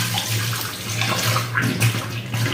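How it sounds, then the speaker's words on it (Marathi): Running tap water splashes and gurgles as gooseberries are rinsed beneath it, close and continuous with small sloshing shifts. "तिथे नळाखाली मी स्वच्छ धुवून घेते एकसारखी पाण्यात धुवून घेते"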